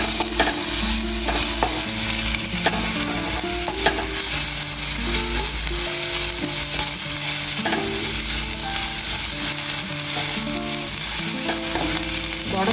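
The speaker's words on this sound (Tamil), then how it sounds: "முதல்ல நம்ம இந்த தோலை நல்லா வதக்கி விட்டுறலாம்." Ridge gourd peel sautéing in a pan, giving a steady close sizzle with repeated spatula stirs and scrapes throughout, no voices.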